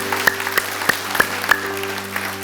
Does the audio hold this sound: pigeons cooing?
no